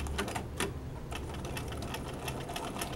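A sewing machine runs steadily while top stitching through two layers of fabric and facing, a close, continuous, busy mechanical whir with a fast stitching rhythm and no talk.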